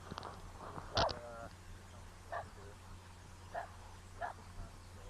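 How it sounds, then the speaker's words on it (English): A dog barks in a few short, sharp yaps spread out over several seconds, faint and somewhat distant, with someone talking quietly in between while it harasses him. "It just keeps barking."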